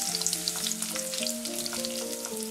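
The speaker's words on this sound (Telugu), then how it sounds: "2 నిమిషాలు వీటిని ఫ్రై చేయండి" Crushed garlic cloves and mustard seeds crackle and sizzle continuously in hot oil, close and fairly loud, with music playing softly underneath.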